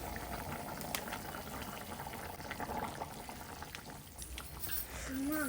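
Country chicken curry simmers on a low flame, a faint steady bubbling and gurgle close by, with a soft tonal sound near the end.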